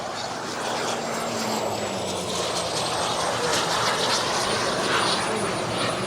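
Giant 3.4 m Global Jet Club Viper Jet RC model turbine jet flying at Florida Jets, a steady broadband roar with a faint high whine, continuous and moderately distant throughout.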